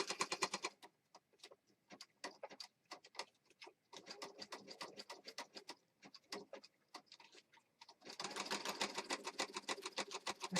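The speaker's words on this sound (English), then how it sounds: "I'm going to stitch around this outside edge, trying to go as close as I can to the edge there." A sewing machine stitches around the edge of a junk journal page in quick rapid bursts of close mechanical ticking, stopping and restarting several times, with a longer, denser run at the end.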